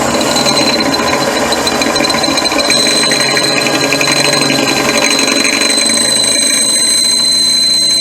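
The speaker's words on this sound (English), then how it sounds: "So I need to drill it out." A power drill grinds steadily as it drills something out, a continuous loud whirring, rattling mechanical whine with a high tonal ring that holds for several seconds.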